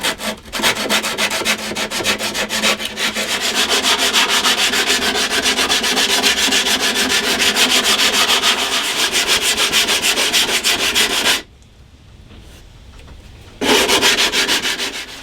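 Steady, loud scratchy strokes of a sanding block rubbing guitar binding flat, a dense rhythmic rasp that pauses briefly near the end before resuming, with no voices.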